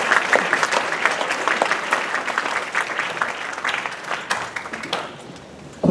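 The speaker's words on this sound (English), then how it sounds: "Please give a round of applause to the Sebring High School Show Choir" Audience applause for the Sebring High School Show Choir after its performance, bright clustered clapping that holds steady and then thins out toward the end.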